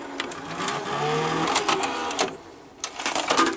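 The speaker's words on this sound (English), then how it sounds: "So the VCR does some strange motor noises" A broken Quasar VH5471-K VCR whirs and grinds with odd motor noises, a close mechanical buzz interrupted by clicks and rattles that shift in pitch and drop out briefly before resuming.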